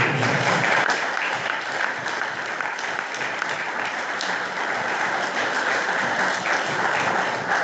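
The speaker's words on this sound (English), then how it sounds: "So if I could invite everybody just to give you another round of applause." Steady, full audience applause fills a rural conference hall, a dense wash of clapping holding at an even level throughout with no voices above it.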